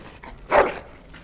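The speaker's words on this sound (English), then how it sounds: "Bloody dog." A single short dog bark sounds close and fairly loud in Dragon Age: Origins, set against quiet background noise with a few faint yips around it.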